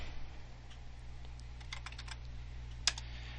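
Quiet, close typing on a computer keyboard, scattered light key taps with one sharper click near the end over a low steady hum.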